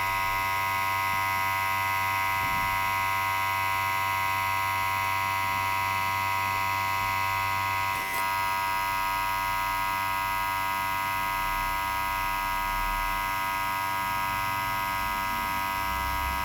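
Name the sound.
tattoo machine buzzing while tattooing skin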